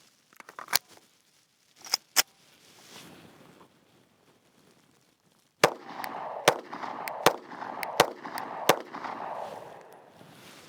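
A Taurus GX4 pistol fires shots outdoors, sharp loud cracks with several spaced apart and a rapid string of about five near the end, each trailing into echo.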